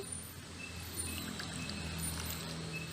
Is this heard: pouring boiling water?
yes